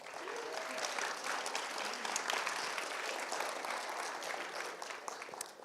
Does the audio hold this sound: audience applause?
yes